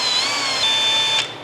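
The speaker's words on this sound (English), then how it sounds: "We're gonna drill just a little quick" A Vevor magnetic drill press cutting a small pilot hole in metal gives a loud, steady high-pitched whine and screech that holds for about a second before cutting off abruptly.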